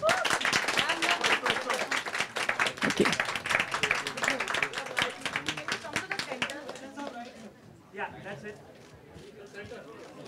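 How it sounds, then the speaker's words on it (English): Crisp hand claps from an audience at a Bollywood book launch event with a film star, heavy for several seconds and then thinning to scattered claps, with people talking over and after them. "I think you all can give a big round of applause."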